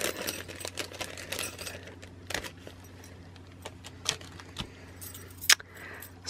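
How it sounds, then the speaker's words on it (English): Plastic packaging crinkles and rustles in irregular bursts while a card club kit with heart dies is unboxed, close and fairly quiet, with a low steady hum underneath. "Sorry for all the crinkling."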